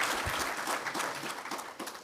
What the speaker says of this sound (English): If you could give a round of applause for All Mutual.